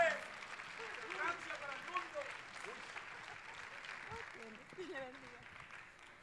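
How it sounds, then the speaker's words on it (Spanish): Applause at a religious gathering welcoming Father Fernando Orejuela: scattered clapping from a crowd, loudest at the start and fading slightly, with voices and chatter mixed underneath. "Vamos a darle un fuerte aplauso a Cristo por la vida del Padre Fernando Orejuela."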